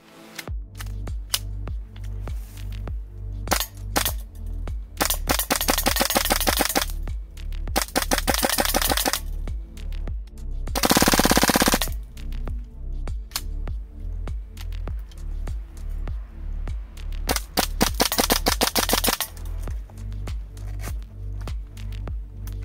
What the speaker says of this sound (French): On va donc passer maintenant au test de tir.